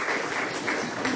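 Audience applause at a Spanish-language book talk, a dense, steady patter of clapping hands filling the room for just over a second, fairly loud and uniform without any voices on top.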